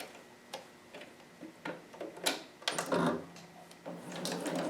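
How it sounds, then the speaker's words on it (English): A sewing machine runs a 5/8 inch stitch along a seam of a harem jumpsuit, giving short bursts of quick mechanical ticking and whirring separated by pauses, fairly close and clear. "So you can go ahead and run this part through the sewing machine."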